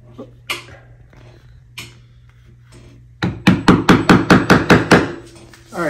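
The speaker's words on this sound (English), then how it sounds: "So she's pounding it in." Scattered taps give way to a rapid series of about nine sharp hammer blows, evenly spaced and loud, pounding into a concrete wall.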